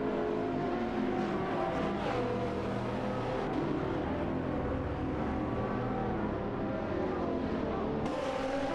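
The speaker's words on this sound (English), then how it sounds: "Exciting racing action as the Maserati MC12 GT1 battles against the Chevrolet" Racing engines of a Maserati MC12 GT1 and a Chevrolet Corvette C6.R drone steadily in a video game race, a continuous loud, dense engine roar with sustained tones and no pauses.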